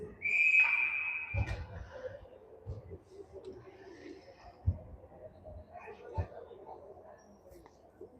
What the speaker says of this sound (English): Shot in front in the cutting stomach, and that will get a whistle.